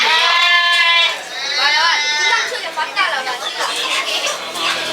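A goat bleats repeatedly and loudly at close range before a Dashain sacrifice, its wavering cries filling most of the moment with short pauses between calls.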